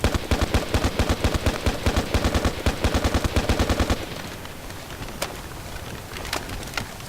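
Rapid bursts of L85A2 rifle shots in Battlefield Play4Free, a fast even volley of sharp cracks for about four seconds, then only faint scattered pops and ambient game noise.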